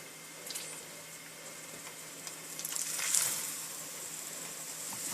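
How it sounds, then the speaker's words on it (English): Spaghetti squash hash brown patties sizzle in a hot pan, a steady soft hiss of frying with faint crackles throughout, swelling slightly midway. "Hopefully that's hot enough they'll start to sizzle."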